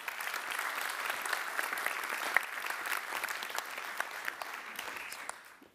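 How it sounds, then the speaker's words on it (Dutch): Applause from a conference audience at a Dutch economic outlook presentation for the Amsterdam metropolitan region, a steady dense patter of many hands, moderately distant, holding for several seconds before fading out. "Mag ik dan ook in stereo een applaus?"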